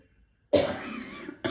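A person with a cold coughs once, a sudden harsh burst after near silence that trails off, followed by the start of another cough, close and fairly quiet.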